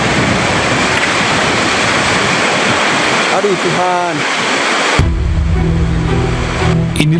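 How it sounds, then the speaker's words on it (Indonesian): Raging floodwater in Bali after heavy rain surges in a loud, continuous roar, with a person's distressed cry over the rushing torrent and a sudden shift in the water's din near the end. "Arus deras banjir bandang akibat hujan yang mengguyur hampir seluruh wilayah Bali"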